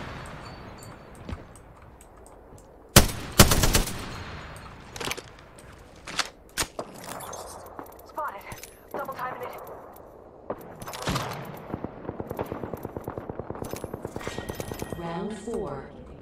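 Gunfire in the battle royale game Apex Legends: a loud burst of shots, then scattered single shots and rapid automatic fire building toward the end, mixed with game voice lines and in-game chatter.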